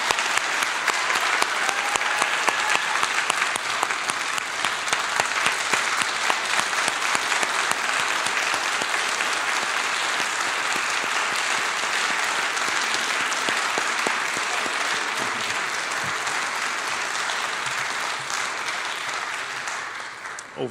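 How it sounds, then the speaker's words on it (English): A university awards celebration audience gives a final round of applause for six distinguished service award recipients, a sustained, dense wash of clapping from many hands that fades slightly toward the end. "How about a final round of applause for all 6 of this year's recipients?"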